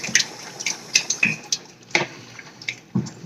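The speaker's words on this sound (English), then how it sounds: "we're going to stir it up so that the starter is distributed evenly in the water" Sourdough starter being stirred into water, giving a run of soft wet clinks and splashy squelches at an uneven rhythm, close and fairly quiet, with no talking.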